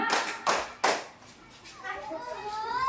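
Children clap in a call-and-response clapping chant at a school gathering, a couple of sharp claps standing out near the start as a voice leads and young voices chatter along.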